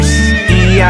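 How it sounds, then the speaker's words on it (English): A cartoon horse in a children's nursery rhyme song gives a loud, close whinny over steady background music. "It's a horse!"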